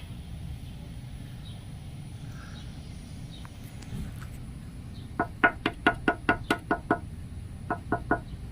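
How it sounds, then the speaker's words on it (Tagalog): A delivery person knocks on a door: two quick runs of sharp raps, about seven and then three, after a quiet room tone. "Si Shopee man ang kumatok."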